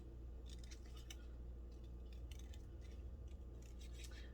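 Small scissors snip through a strip of blue cardstock, fussy cutting out a little paper snow angel for a handmade winter card, in a series of quiet, quick, close crisp snips.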